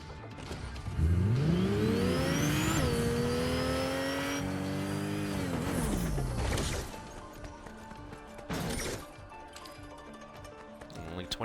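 A car in the video game Fortnite accelerates hard, its engine revving up in rising sweeps and shifting before easing off, followed by a few knocks and clatters as it drives on.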